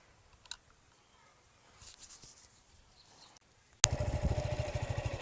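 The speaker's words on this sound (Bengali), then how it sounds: "ইঞ্জিন সাউন্ডটা আমি স্টার্ট করে দেখাই" A few faint clicks and rustles, then a Suzuki Gixxer FI ABS motorcycle engine suddenly fires up and settles into a smooth, steady, throbbing idle close by.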